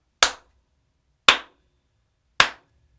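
Three single sharp hand claps, evenly spaced about a second apart, close and crisp with silence between them.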